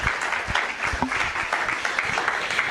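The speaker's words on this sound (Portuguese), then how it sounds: "Parabéns aí, vamos aplaudir" A small group claps during a group activity session, a short, uneven patter of hands with a few louder individual claps standing out close by.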